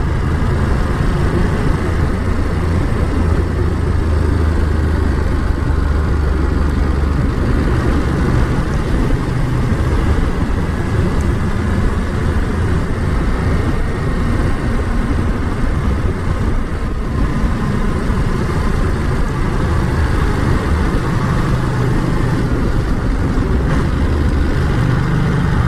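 A 2022 Ducati Monster motorcycle under way, its engine note blended with steady wind roar in a continuous, loud drone that holds evenly throughout with no talking.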